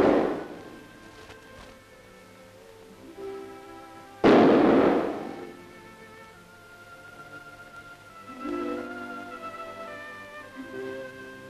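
Gunshots in a 1939 film: a sharp crack opens, then a second, louder blast rings out a few seconds later and fades, with quieter rumbling and tonal sounds in between and no speech.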